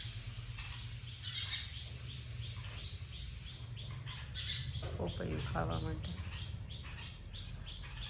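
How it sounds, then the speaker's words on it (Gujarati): Sparrows and bulbuls chirp near a fallen papaya: a steady stream of small, bright tweets close by, with a person speaking briefly over the birds. "અત્યારમાં જો ચકલીઓ આવી ગઈ છે અને પોપૈયું પડ્યું છે ને, એટલે બુલબુલ ત્યાં જાય છે."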